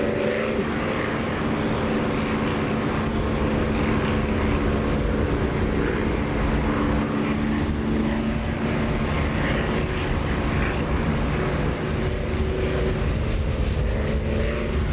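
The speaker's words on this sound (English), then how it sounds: "This engine sound, I don't like to close the canopy because it just sounds so nice, especially when you're low." Aircraft engine in the DCS flight simulator game, heard with the cockpit canopy open: a loud, steady, continuous engine drone with a buzzing tonal hum that holds evenly throughout, with no talking.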